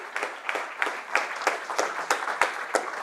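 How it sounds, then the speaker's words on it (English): An audience at a tech meetup gives a round of applause, with distinct claps rising and falling in loose rhythmic surges over steady hand noise, moderately near and heard on its own without talk. "So give yourselves a round of applause."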